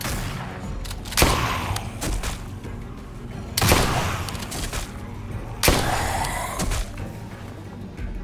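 Three loud, sharp gunshots ring out in Telltale's The Walking Dead, spaced roughly two seconds apart, each followed by a ringing, echoing decay over a steady low background.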